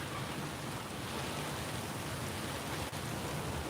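Rain falls at the SpaceX Starbase launch site in Boca Chica, Texas, a steady faint hiss of dense drops spread evenly throughout, with no voices.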